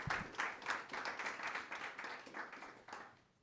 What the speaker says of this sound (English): please give them a warm round of applause for joining us today